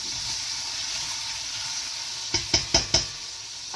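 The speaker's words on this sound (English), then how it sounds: "Make sure you continuously stir your cut beef." Cut beef fries in a big pot with a steady close sizzle, broken near the end by four quick knocking scrapes as it is stirred.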